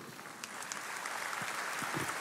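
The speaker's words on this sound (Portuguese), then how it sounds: "Uma salva de palmas para a Dona Irã." Faint, steady applause from a church congregation fills the space, a soft continuous patter of many hands with no voices over it.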